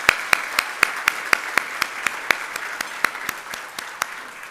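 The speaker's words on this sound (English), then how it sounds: "let's clap for that" Audience applause at a community awards ceremony: a dense wash of clapping with a few sharp, louder claps standing out at a steady pace, lasting several seconds.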